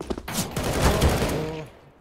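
Dense, continuous video game gunfire, a blurred barrage of shots for about two seconds, loud and close with no clear pauses.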